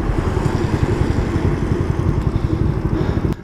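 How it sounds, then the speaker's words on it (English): A motorcycle fitted with an LED headlamp idles close by, its engine throbbing in a steady, loud low pulse with no talk over it. "So this is my bike, guys."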